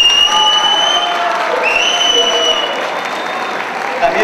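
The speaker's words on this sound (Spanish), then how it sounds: "para quien pide un fuerte aplauso" An audience at a Guatemala 2011 dog show honoring an FCI vice president breaks into loud, sustained applause. The dense clapping is mixed with crowd noise and thin whistle-like tones, with no pauses throughout.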